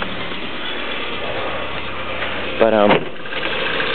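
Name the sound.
Nissan 240SX engine making odd noise, valve tap or pulley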